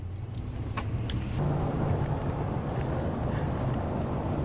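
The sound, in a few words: car driving on road, heard from inside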